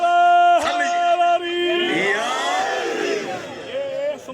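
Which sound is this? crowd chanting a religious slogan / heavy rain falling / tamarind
crowd chanting a religious slogan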